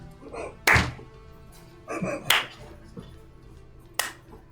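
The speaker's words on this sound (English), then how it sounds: "are you slow clapping us?" Slow clapping gives about four sharp, widely spaced claps in an uneven, deliberate rhythm, with quieter thumps and handling noise between them.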